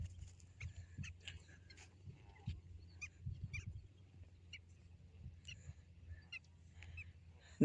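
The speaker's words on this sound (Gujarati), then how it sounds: "જો બતક કેટલા બધા છે અને ઉડે છે" Distant, faint calls from a flock of ducks flying in Bhavnagar, scattered honks repeating irregularly over a low background rumble.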